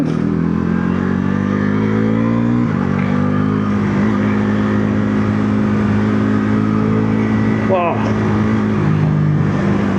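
A Bajaj Pulsar NS350Z motorcycle is ridden with a loud, steady engine drone close by. Quickshifter gear changes cause brief dips and jumps in engine pitch.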